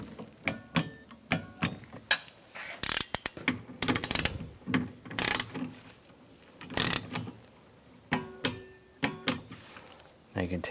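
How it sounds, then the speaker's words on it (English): A torque wrench tightens the window clamp bolts on a 2015-2020 GMC Yukon door, with sharp ratcheting clicks in short bursts and metallic knocks close by, separated by quiet gaps. "I'm going to torque these bolts, the two that attach the clamps to the window, to 97 inch-pounds"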